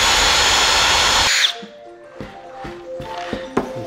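A power screwdriver unscrewing fasteners from the packaging of a huge 1/2 scale RC go-kart, a loud whirring burst that cuts off, followed by quieter clicks, taps and handling knocks.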